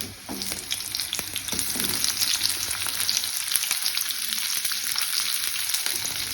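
Garlic and onion fry in a pan in a close, steady sizzle, with occasional stirring scrapes and no voices.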